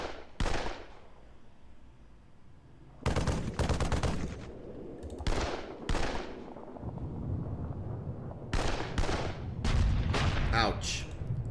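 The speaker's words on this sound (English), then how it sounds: "Let's just lay down rifle fire here." Rifle fire in the wargame Panzer Campaigns Poland 39, several sharp bursts of volley and rattling gunfire separated by quieter gaps, loud and close, with someone talking between and under the shots.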